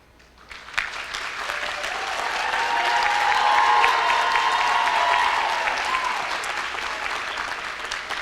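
A graduation crowd at a community college ceremony applauds the faculty, the clapping swelling from a few hands into full, dense applause that peaks midway and then eases slightly.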